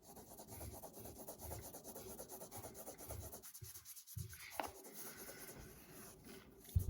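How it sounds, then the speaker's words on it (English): Pencil drawing on paper, sketching a volcano with lava, heard as close, steady scratchy strokes in quick rhythmic bursts with a short pause midway. "I'm gonna draw like lava shooting from it."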